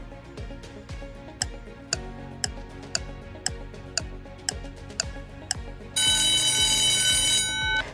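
A quiz countdown timer ticks steadily and loudly at about two ticks per second, then gives way to a sustained bright electronic ringing alarm for the final two seconds.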